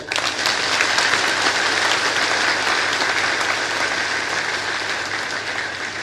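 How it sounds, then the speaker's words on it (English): Sustained audience applause at an induction ceremony for new members, broad and even throughout and slowly tapering toward the end, with no voices over it. "I believe that applause could be louder."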